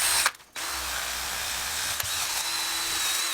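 A hand drill with an extension spins an abrasive attachment against a wheel rim being reconditioned, a steady high whine and grinding hiss close up, broken by a short pause near the start.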